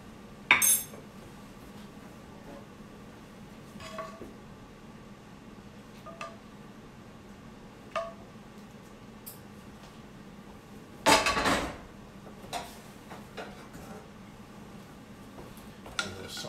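Plates and cutlery clink sporadically as chicken piccata is plated, with sharp isolated taps and one brief louder clatter of dishes over a quiet room hum.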